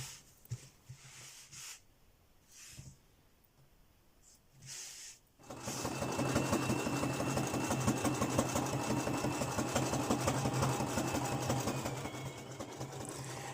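Sewing machine stitching a fabric panel for a bushcraft sewing-kit pouch. A few quiet handling sounds come first, then a loud, continuous, rapid mechanical whirring runs steadily to the end.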